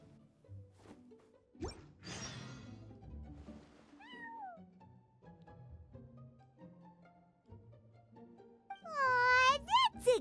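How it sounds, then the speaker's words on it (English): Cats in Genshin Impact meow in short rising calls, with a longer wavering meow at the end, over light game music and background noise; a person talks softly at points. "that's a good kitty, Sir Pouncelot."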